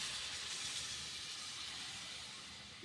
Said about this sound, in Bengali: এবার এর মধ্যে দিয়ে দেব 2 কাপ মতো জল।